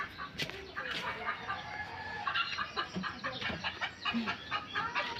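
Several chickens cluck in quick, repeated bursts nearby, a busy ongoing chatter of short calls.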